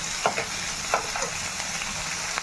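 Fresh coriander and spices frying in a pan: a brief, close sizzle broken by a few quick spatula strokes, with no talking.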